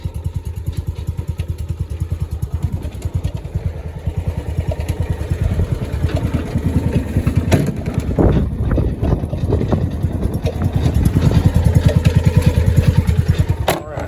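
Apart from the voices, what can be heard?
John Deere 1200A engine running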